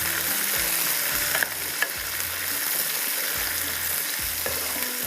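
Ingredients for one-pot vegetable rice fry lightly in a pan with a steady, close sizzle, broken by occasional stirring scrapes and small clicks, with no one talking.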